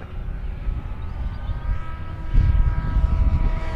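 An FMS de Havilland Beaver 2000mm RC model plane on floats flies at a float flying field, its steady motor drone rising and swelling slightly as it passes closer.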